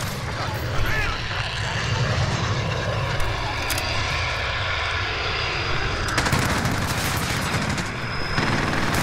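A VTOL jet roars steadily overhead in Call of Duty: Modern Warfare, a loud continuous engine drone with bursts of gunfire and other battle noise mixed in throughout.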